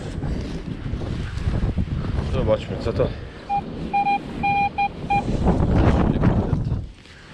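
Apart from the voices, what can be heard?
strong wind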